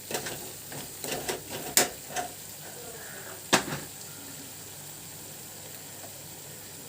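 Spices being stirred in a frying pan for a curd paneer curry, with a few scraping clinks of the spoon against the pan over a soft, steady sizzle; no talking.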